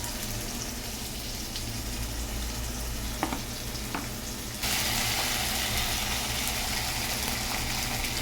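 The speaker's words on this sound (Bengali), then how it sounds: "1 চামচ আদা বাটা, রসুন বাটা দিয়ে দিচ্ছি। এবার একটু ভেজে নেব।" Ginger and garlic paste fry with softened tomato in a pan, a continuous close sizzle with a few clinks from stirring, growing louder and brighter partway through.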